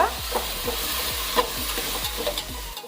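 Ginger garlic paste fries in a pan with a continuous close sizzle, broken by rhythmic scraping strokes of a spoon stirring it around.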